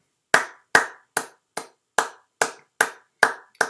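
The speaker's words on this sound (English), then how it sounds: "We clap you out" Nine crisp hand claps land at a slow, even pace, each sharp and close with a short decay, alone with no voices.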